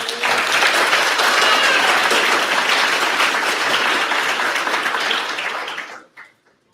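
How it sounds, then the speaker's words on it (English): A large crowd applauds sponsors at a hackathon opening ceremony, loud sustained clapping that stays even for several seconds before quickly dying away to a few scattered claps. "Just want to give a round of applause to all the sponsors here"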